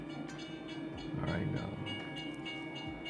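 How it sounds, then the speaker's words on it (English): A train approaches a level crossing in a driving simulator game, its rumble steady and fairly loud, with a faint horn-like tone, while a voice talks over it. "Train is approaching. I need to slow down and stop on the stopping point."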